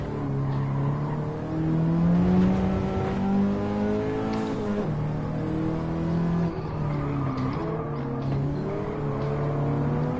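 Racing car engines in Gran Turismo 7, including a brand new Toyota Supra, drone and rev steadily at close range, with rising and falling pitch sweeps as the cars accelerate and shift through a race.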